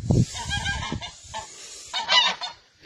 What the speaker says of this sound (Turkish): kaza bak, kaz bana vurur ya.